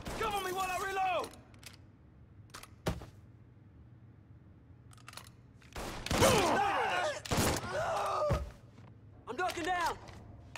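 Gunfire in Mafia III comes as a few sharp, isolated bursts and thuds between stretches of game dialogue and shouting, with louder clustered shots near the end.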